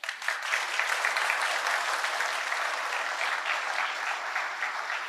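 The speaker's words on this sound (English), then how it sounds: "A round of applause." Steady applause from a conference audience at the close of a technical talk, a dense even patter of many hands clapping without pause for about five seconds.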